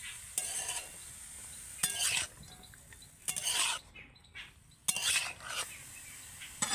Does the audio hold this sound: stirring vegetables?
yes